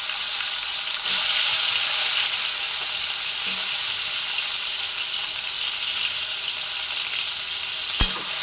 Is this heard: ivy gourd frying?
yes